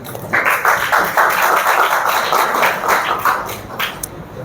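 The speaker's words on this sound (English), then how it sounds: "So a big round of applause for them." Students at a PPT competition at Haldia Institute of Technology receive applause, heard as loud, close, uneven clapping in rhythmic bursts from a modest group, with a few sharp individual claps near the end.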